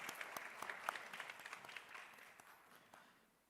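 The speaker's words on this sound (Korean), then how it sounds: "하나님께 영광의 박수 올려드리도록 하겠습니다." Applause from a church youth worship congregation, a brief burst of close, distinct claps that thins out and fades over a few seconds, fairly quiet overall.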